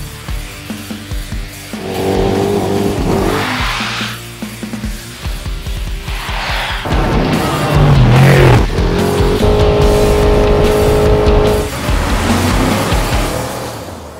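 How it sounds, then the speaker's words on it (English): Lexus LX570 Baja race truck tearing along an off-road course during the SCORE race season, its engine roaring loud and close throughout with revving surges and rumbling, heavy driving noise and no talk. "I'm gonna take you for a little ride in the LX570 Baja race truck"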